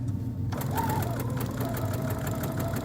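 A sewing machine stitches a quilted ornament trivet, a close, steady rapid mechanical whir that starts abruptly and runs evenly to the end, with no talking.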